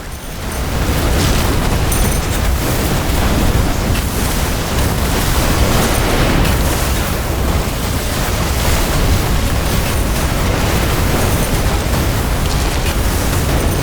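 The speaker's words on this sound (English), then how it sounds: "An energy connector has been destroyed." Energy connector blowing up in The Riftbreaker, a loud, sustained roaring blast of dense broadband noise that holds steady for the whole stretch without fading.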